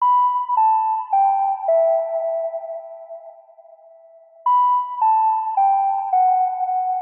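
Synth tone built from a square wavetable with ring modulator and chorus, playing a descending stepped sequence of clean bell-like notes that fades, then restarts at the top of the sequence.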